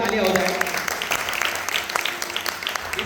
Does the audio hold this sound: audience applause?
yes